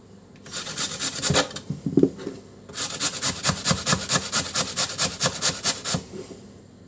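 Potatoes for a casserole scraped against a hand grater in quick, rhythmic strokes, close and crisp, with a brief pause before a longer burst of even rasping.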